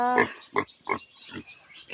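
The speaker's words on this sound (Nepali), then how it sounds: "यो सुँगुर चाहिँ मान्छेको 7 महिनामा क्विन्टल पुग्छ भन्छ" A large farm pig grunts in five short, rough bursts spaced through two seconds, close by and fairly loud.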